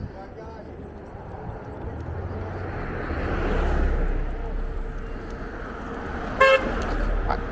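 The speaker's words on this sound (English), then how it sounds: "Are you honking" A car horn on a busy city street sounds one short, loud blast near the end, over a steady rumble of passing traffic beside a bike lane.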